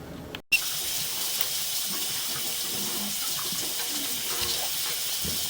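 Continuous rushing water, a steady hiss of flow after a brief bump at the start, moderately loud and uninterrupted.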